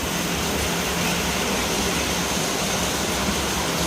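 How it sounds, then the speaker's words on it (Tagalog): Floodwater rushes through a flooded street in Las Piñas, a steady, even roar of flowing water filling the whole moment without any pause. "Tignan mo, baha na."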